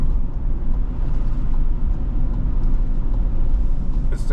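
A car drives along a road at night with a loud, steady rumble of engine and road noise that stays constant throughout, with no speech.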